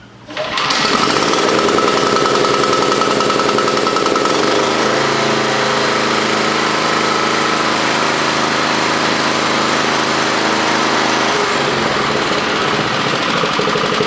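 A Kawasaki FJ180V engine on a Toro commercial mower, an engine with a surging and no-start issue, fires on the pull and settles into a loud, steady close-up run that holds to the end.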